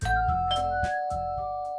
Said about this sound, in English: my head jerks to the sudden sound of my doorbell